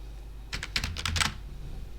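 A quick burst of about eight keystrokes tapped on a computer keyboard, close and crisp, running for under a second and then stopping.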